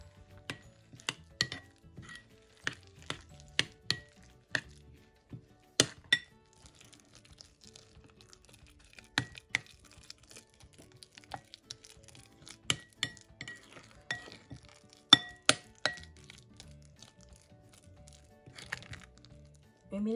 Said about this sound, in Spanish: Y ahora vamos a revolver muy bien. Que se haga una masita.